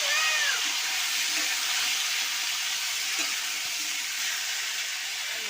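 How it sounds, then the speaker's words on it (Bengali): Tomato, onion and potato fry together in very hot oil in a home kitchen, giving a loud, steady sizzle throughout with a faint meow-like squeal near the start. "এই টমেটো পেঁয়াজ আলু একসঙ্গে ভেজে নেব"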